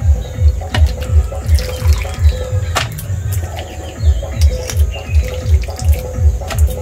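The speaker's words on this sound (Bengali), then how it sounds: "আমি এবারে এগুলো ধুয়ে নেব।" Tap water runs as ingredients are rinsed by hand at a kitchen sink. A steady close splash has rhythmic sloshing pulses as the food is moved under the stream, with a few sharp clinks.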